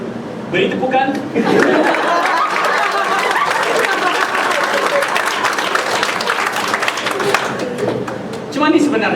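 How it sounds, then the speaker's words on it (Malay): Audience applause at an improv comedy show, loud sustained clapping with crowd chatter and some laughter, rising quickly and continuing for several seconds before voices return near the end. "Beri tepukan."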